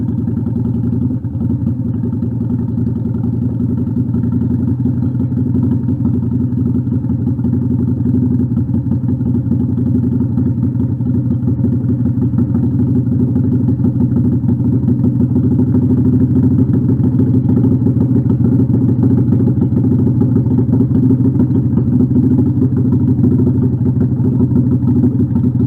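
A cold motorcycle engine idles steadily and loudly throughout, a continuous low rumble with a faint mechanical clatter and no speech.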